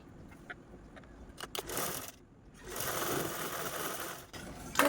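A sewing machine stitches along the edges of a piece of fabric in short bursts, with a brief pause between runs, then a longer steady run, fairly faint and close, with no talk.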